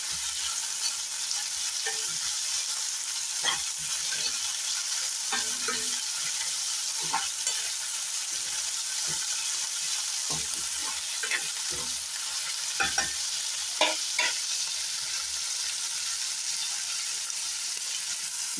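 A capsicum gravy sautéing in a pan, with a steady bright sizzle throughout and frequent scraping, clinking stir strokes at irregular intervals, close and quiet with no talking.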